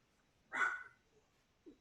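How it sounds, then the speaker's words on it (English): One short, faint dog bark sounds from another room of a home during an online veterinary webinar on public health and COVID-19, followed by a softer yip; otherwise the room is quiet. "I apologize for the dogs"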